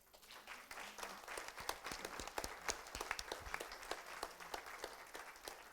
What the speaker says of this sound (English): Let's applaud her anyway.